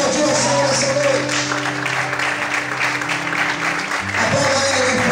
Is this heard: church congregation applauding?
yes